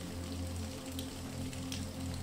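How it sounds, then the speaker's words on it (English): Soft, steady trickling rain on a rainy night, a faint continuous patter blended with a low hum of machines and quiet music underneath, with no talking. "sounds of the machines and trickling rain."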